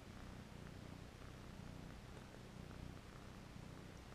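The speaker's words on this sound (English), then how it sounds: "You have such a loud purr." A cat purrs steadily and close up, a low continuous rumbling with a soft rhythmic pulse, no voices.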